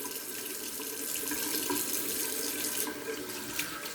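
Steady tap water runs to rinse out a bathtub after a straight razor shave, a continuous close hiss of flowing water with no talk over it.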